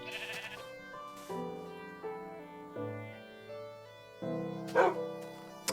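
Wolfie, a pet wolf in Minecraft, gives a run of short, bright, high barks and yips, spaced irregularly and clean over silence, with a louder cluster near the end.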